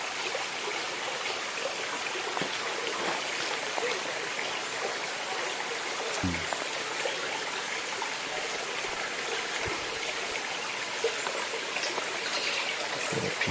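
A creek runs steadily throughout, its broadband rush of flowing water filling the whole stretch at a constant moderate level, with a few faint splashes or knocks near the middle and no talk.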